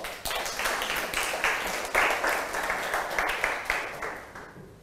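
A classroom of Thai primary students claps for themselves in a burst of dense, lively applause that keeps going for about five seconds, with a few small swells and dips in loudness along the way.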